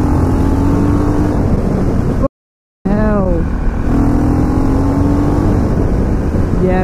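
A KTM LC4 640 single-cylinder supermoto motorcycle revving hard and accelerating in first gear, its loud close engine note rising in pitch, dropping out briefly, then climbing again.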